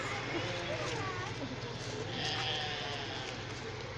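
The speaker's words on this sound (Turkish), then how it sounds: "şurada keçiler var. Ay koyun." Sheep and goats bleat intermittently amid a busy outdoor din at a zoo, with people talking throughout and a steady low rumble underneath.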